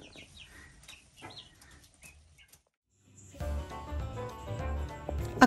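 Chickens in their coop in an Alaska setting give a few soft clucks and chirps, faint and close, before a louder burst of busier noise takes over near the end.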